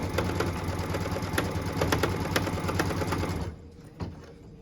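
An embroidery sewing machine stitches a quilt block cut line, its rapid mechanical needle chatter loud and close for about three and a half seconds before it stops, followed by a faint click.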